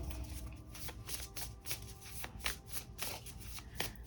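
A deck of oracle cards is shuffled by hand, a soft close rapid riffling and slapping that continues steadily throughout.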